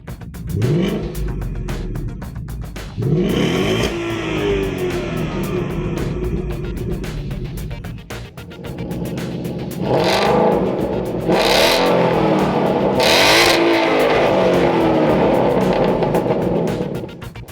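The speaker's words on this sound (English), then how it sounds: "let's have a listen to the before and after sound clips of the Sport Catback with the GT350 Valance." A Ford Mustang GT (2015-2017) with a Sport Catback exhaust and GT350-style quad-tip valance rumbles loud and close, idling with a deep growl and then revving hard several times in sharp bursts.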